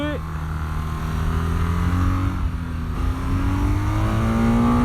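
A BMW R12 nineT motorcycle engine pulls hard under acceleration, its steady drone climbing gradually in pitch through the revs. It stays loud and close throughout, with a voice speaking over it.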